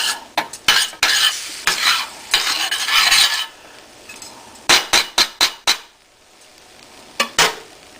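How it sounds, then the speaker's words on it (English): A spoon scrapes and stirs spaghetti sauce in a pan with a sizzling, bubbling hiss, broken by sharp clinks of the utensil against the pan's edge. "just stir this so it won't stick to the pan"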